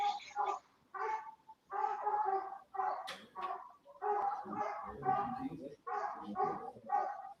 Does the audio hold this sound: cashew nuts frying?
no